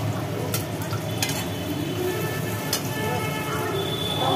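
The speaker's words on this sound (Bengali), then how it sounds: "পেঁয়াজটা বেশ ভাজি হয়ে যাওয়ার পরে একটা কালো জিরে তেলের মধ্যে দিয়ে দেওয়া হলো" Nigella seeds hit hot oil with well-fried onions in a pan, giving a steady, close sizzle with a few sharp crackles and pops.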